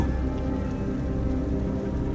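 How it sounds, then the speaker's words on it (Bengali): Cartoon effect of heavy rain with thunder, a dense continuous patter of downpour with a low rumbling undertone, steady and loud throughout with no voices. "বৃষ্টির দাপট আরো বেড়ে উঠল।"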